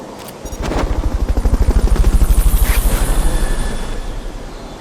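A helicopter in the video game Metal Gear Peace Walker, its rotor thumping in a loud fast regular pulse that swells to a peak midway and then eases slightly while the engine whine continues.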